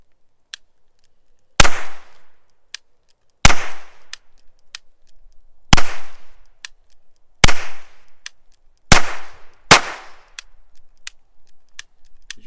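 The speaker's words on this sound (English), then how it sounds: "So Bob's going to shoot the little 22 with the CCI quiets" Six sharp, loud reports from a small .22 pocket pistol firing CCI Quiet ammunition, spaced one to two seconds apart, each with a short decay and faint mechanical clicks in between.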